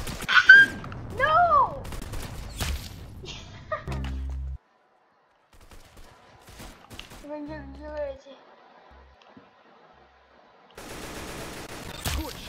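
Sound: gunfire in Roblox Arsenal video game

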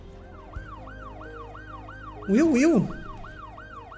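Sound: ambulance siren in Cities: Skylines II video game

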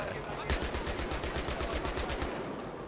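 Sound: gunfire from a video game

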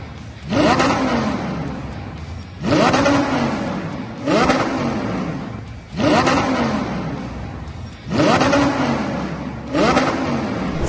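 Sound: stripped Audi R8 engine revving

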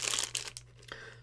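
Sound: plastic bag being crinkled open

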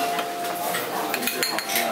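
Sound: stirring fish powder into chicken broth with utensil

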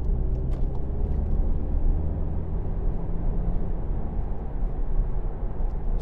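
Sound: 2016 Volkswagen Golf 2.0 TDI GTD diesel car driving

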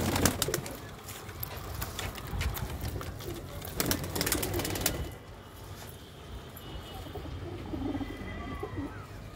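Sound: golden pigeons cooing

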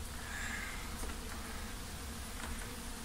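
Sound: swarm of mosquitoes buzzing in a bunker

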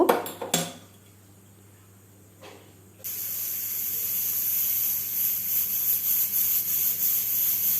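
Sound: pressure cooker hissing and whistling on gas stove

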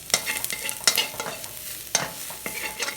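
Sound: stir-frying garlic and vegetables in hot pan

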